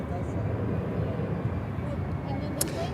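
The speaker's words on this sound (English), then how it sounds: "This is runway 12 approach. American Airlines with the 777." An American Airlines Boeing 777 on approach to runway 12 at Miami, a steady broad jet roar held at moderate distance for the whole stretch with no distinct pass-by peak.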